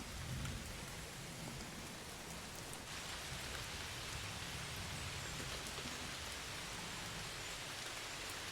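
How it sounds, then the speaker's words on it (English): Steady, soft rain patters evenly on surfaces all around in the Great Smoky Mountains, a continuous hiss with no voices and no change in intensity. "Maybe sit out the rain for a little bit."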